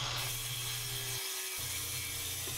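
Power saw cutting through plywood siding on a shed, a steady loud buzzing drone that briefly drops out mid-cut and then resumes.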